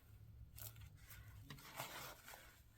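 Scissors snip through a strip of tape used for book folding, with a few quiet crisp cuts and light rustling scattered over a soft background hiss, no voices.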